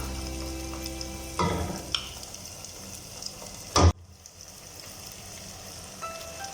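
Dates, long salt-cured and soft, stirred and fried in oil for a sweet and sour dates pickle: a low steady sizzle with scraping stirs, plus one sharp loud clatter partway through.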